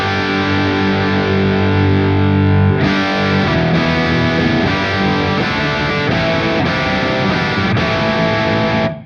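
Electric guitar played through a Soldano SLO Plus two-channel overdrive pedal with the deep switch engaged, loud sustained distorted chords with heavy low end, a held chord giving way to a thicker, busier strummed passage.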